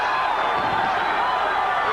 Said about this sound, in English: And the crowd urging on Sanchez.